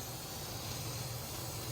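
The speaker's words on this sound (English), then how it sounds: "So this has been venting for 10 minutes." A pressure canner vents steam with a steady, loud hiss, continuously, with no pauses or talking.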